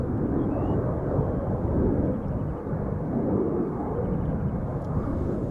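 EasyJet Airbus A320, eleven years old, departing Amsterdam Schiphol for Venice: a steady, loud, broadband jet roar, low and rumbling with a continuous wash, held evenly throughout without talk.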